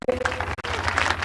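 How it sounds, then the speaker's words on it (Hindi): An audience at a school annual function claps in a brief, loud burst of applause with some crowd murmur mixed in. "तालियां"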